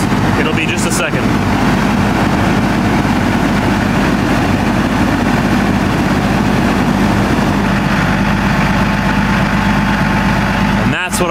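A truck engine idles nearby in a steady, loud low rumble that fills the whole stretch, with a couple of brief clicks and clunks at the start and end.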